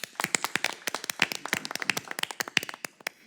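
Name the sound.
round of applause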